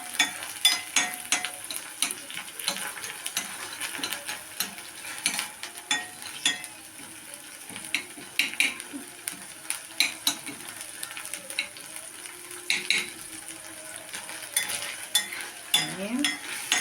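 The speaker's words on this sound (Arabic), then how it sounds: "شوحهم شوية كده." Garlic sautéing in a frying pan gives a low, steady sizzle broken by irregular scraping and clinking as it is stirred, fairly quiet and close, with no talking.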